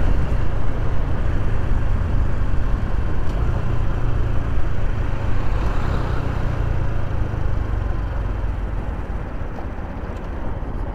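Honda Super Cub 125 small motorbike ridden on the road, a steady low engine drone mixed with wind rush, constant and fairly loud for the whole stretch with no talking.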